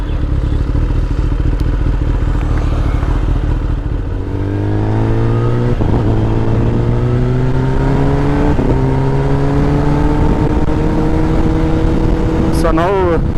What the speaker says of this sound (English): I am going to keep the engine braking in on and see how much time the motorcycle takes to do the same.